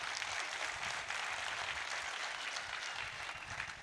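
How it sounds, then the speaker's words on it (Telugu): An audience at a Lions Club business talk applauds, a faint, distant, continuous patter of many hands clapping that holds evenly for several seconds without any voices. "ఒక్కసారి గట్టిగా చప్పట్లు ప్లీజ్"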